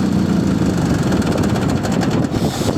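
A Gilson S-Twin 18 horsepower twin-cylinder lawn tractor engine idles nearby with a steady, slightly rough, knocking chug that holds evenly throughout, with no talking.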